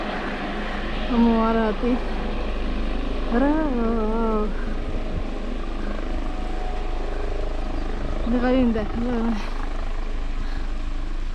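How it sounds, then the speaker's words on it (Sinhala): A rescue helicopter comes down for a landing in Shropshire, its steady low rotor drone running throughout beneath people talking. "හෙලිකොප්ටරයක් බානවා ලයිෆ් සේවිං මොකක් හරි සීන් එක"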